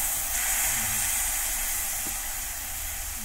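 Milk hits a hot pan of frying beetroot halwa, giving a steady, loud sizzling hiss that holds evenly from start to finish, with no talking.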